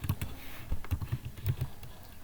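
Fingers tapping out CSS code on a computer keyboard, a steady run of close, crisp key clicks with an uneven typing rhythm and no voices.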